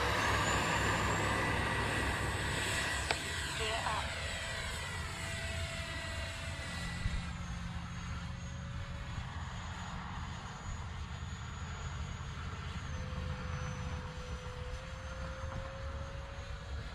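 A Freewing F-16 radio-controlled jet with a 70mm electric ducted fan flies overhead on a 4300 battery, its steady high whine rising and falling in pitch as it passes, loud and continuous.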